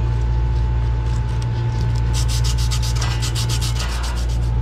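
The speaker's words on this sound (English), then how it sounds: "I'm just gonna take some sandpaper and sand down the edges" Sandpaper rubs back and forth over the cut edges of a plumbing pipe with couplings, a steady rasping that turns into quick, rhythmic strokes over a constant low hum.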